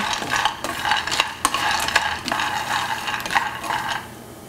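Peanuts roasting in a dry pan are pushed around continually, giving a close, busy rattle and scrape of nuts and utensil against metal with a faint undertone of heat.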